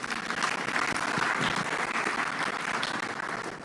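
Steady, dense applause from a summit audience fills the room, continuous and loud throughout with no talk over it.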